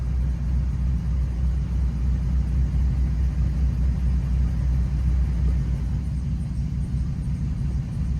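A parts-vehicle engine idles steadily with a low, even rumble, close and continuous throughout, running at low oil pressure.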